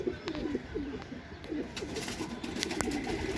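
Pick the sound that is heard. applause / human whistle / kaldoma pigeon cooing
kaldoma pigeon cooing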